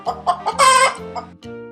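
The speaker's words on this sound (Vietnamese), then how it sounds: "Con gà mái." A hen gives a short series of clucks, loud and close, ending with a higher squawking cackle in a quick cluster of calls.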